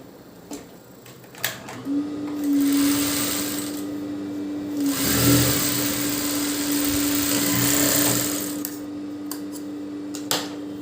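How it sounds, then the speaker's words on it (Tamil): A sewing machine stitches a seam on a semi patiala pant, its steady motor hum running loud and continuous for several seconds, with soft handling clicks before and after and no talking. "இப்போது நம்ம ஜாயின் பண்ணதுக்கப்புறம் இதுக்கு மேல் தையல் ஒன்று போட போகிறோம்."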